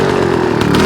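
1951 Turner By-Van motorcycle with coil ignition, its engine running with a loud, close buzzing drone that wavers slightly over one second.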